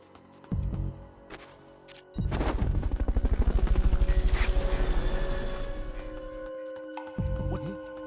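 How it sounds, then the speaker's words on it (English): Fulton recovery helicopter in the video game Metal Gear Solid Peace Walker, a loud rhythmic rotor chop that swells in, holds for several seconds and fades, framed by brief sharp effects. "Fulton recovery helicopter is complete."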